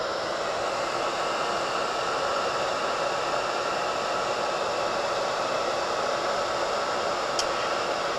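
A hair dryer blows steadily and loudly on a painted zombie bust to dry the paint, a constant airy roar with no pauses and no voices.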